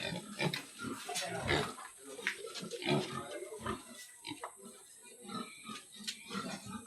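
Pigs on a farm grunt and oink in short irregular bursts at close range, with a person talking at times among the animal sounds.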